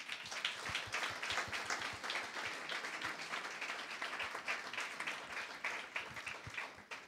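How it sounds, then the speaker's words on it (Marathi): A church congregation claps during a Sunday sermon, giving a dense, steady round of applause that lasts about seven seconds and fades slightly at the end. "मग जरा आपल्या लोकांसाठी टाळ्या वाजवा."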